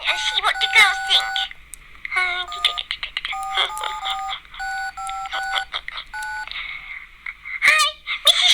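A telephone is dialed, with a series of short, clear two-tone keypad beeps in quick irregular bursts, close and bright, broken by brief pauses.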